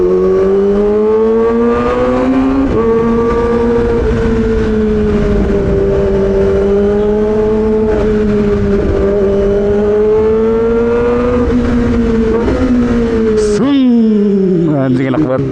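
A car engine revs hard and holds a loud, droning pitch as gears are shifted without the clutch, the tone dipping and rising with each change, close and steady before a final sharp rev near the end.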